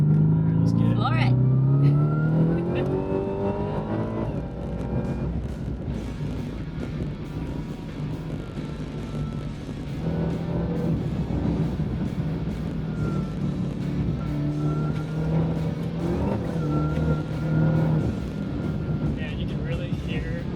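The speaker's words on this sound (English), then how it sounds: "you can really hear the supercharger line so much more." Supercharged truck engine revving and droning steadily while driving over dirt, with supercharger whine, loud and continuous under occasional talk from people inside.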